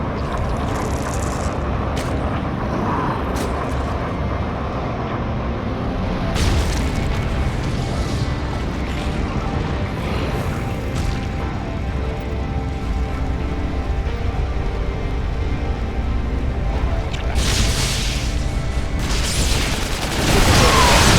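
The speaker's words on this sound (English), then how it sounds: "we have detected another nuclear missile launch" Nuclear missile explosions in the StarCraft 2: Heart of the Swarm video game, a dense continuous rumble of booms and blasts with repeated bright bursts, loud and sustained through the battle.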